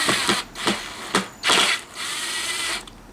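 A power drill drives a fastener into sheetrock on a DIY faux box-beam ceiling, heard as several short, close bursts of whirring with brief pauses between, the last run longer before stopping.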